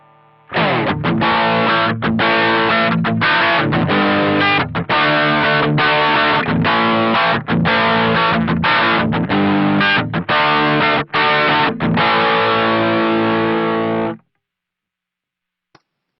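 Distorted electric guitar run through a Hotone BritWind pedal's cabinet simulator plays a loud, dense riff of chugging chords for about fourteen seconds, then cuts off abruptly into silence.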